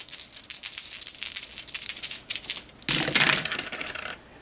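Three dice are rolled in a Star Wars: Battle of Hoth board game, starting with a series of quick clattering taps, then a loud rattling tumble that settles and cuts off; close by, with no talking.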